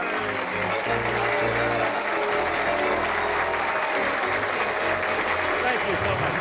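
Studio audience at the 1971 game show Beat the Clock applauds steadily throughout, a dense, loud wash of clapping from many hands with no pause.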